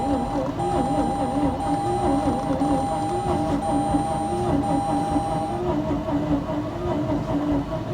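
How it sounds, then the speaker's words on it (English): A stick-shift Mazda RX-8, jumped from a booster pack, cranks but won't fire, giving a continuous whirring, rhythmic starter drone with a steady whine that runs for the whole stretch without ever catching. "You could hear the way she was cranking. She didn't sound like she wanted to start at all."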